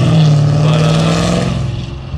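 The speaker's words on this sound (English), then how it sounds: "there's something about, you know, LS motors that just sounds so good, no matter what you do to them" An LS V8 in a 2018 Mustang GT with headers, intake and E85 revs loudly on a dyno, its deep engine tone climbing, then slowly easing off as the rumble fades.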